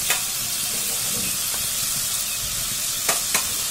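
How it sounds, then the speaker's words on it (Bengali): Masala paste for a traditional Bengali prawn curry fries in a pan with a steady broadband sizzle and hiss, and a few sharp stirring scrapes stand out near the end. "মশলা ভালো করে কষানো হয়ে গিয়েছে"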